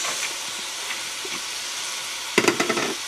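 Carrots go into a hot pan already holding onions and bacon, giving a steady background sizzle that breaks into a cluster of sharper crackling and spattering bursts near the end, close and fairly loud, with no talking.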